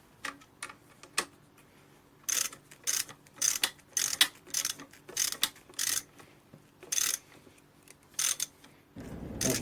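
A wrench works the tie rod clamp on a Jeep Grand Cherokee WJ, giving repeated ratcheting bursts, each a quick series of clicks, close and distinct, with short pauses between strokes.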